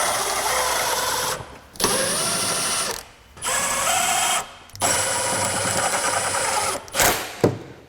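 A power tool runs in repeated bursts of steady high whirring, four long pulls separated by short pauses, as it snugs up rear suspension bolts on a Honda Pilot.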